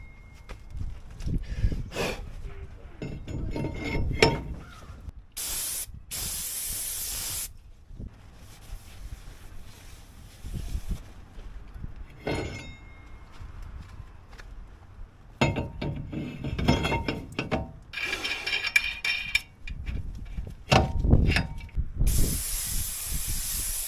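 Brake cleaner sprayed in repeated hissing bursts onto new brake rotors of an '08 Chevy Silverado, sharp close sprays separated by quieter pauses with faint clinks and handling noise.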